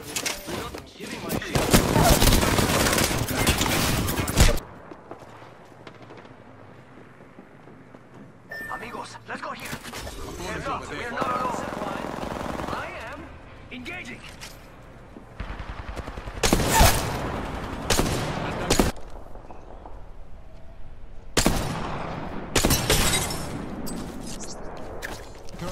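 Gunfire in the video game Apex Legends, with dense bursts of rapid shots at the start and several more loud bursts later, broken by quieter stretches where in-game voices and other sounds come through.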